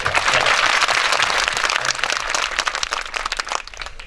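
An audience at a devotional bhajan program claps in sustained, dense applause that gradually thins into scattered individual claps.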